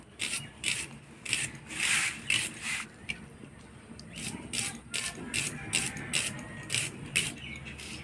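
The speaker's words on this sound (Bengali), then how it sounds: "কাঁচা লঙ্কা কাটে নেব।" Onion and green chili are chopped on a cutting board with a knife, giving a quick series of close, sharp cutting strokes in irregular bursts, with a faint background behind them.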